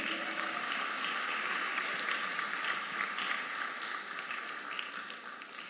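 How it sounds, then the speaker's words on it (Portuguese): A church congregation gives a round of applause for a pastor at a Christian education gathering, a dense, sustained roar of many clapping hands that holds steady and fades slightly toward the end. "Uma salva de palmas"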